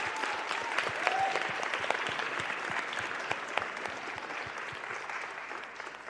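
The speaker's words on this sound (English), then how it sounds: "This is an applause." An audience at a plenary session applauds steadily, a dense patter of many hands clapping at moderate distance that tapers slightly toward the end.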